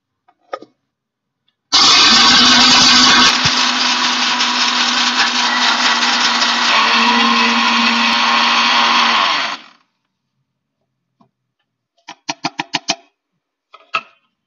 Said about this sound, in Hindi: तो उसके मिक्सचर को हम पीस लेंगे।